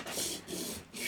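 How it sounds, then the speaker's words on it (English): A knife blade scrapes in soft, close rasping strokes against a sharpening surface to remove the burr during freehand sharpening, in two or three quick passes. "you want to come in, remove that burr"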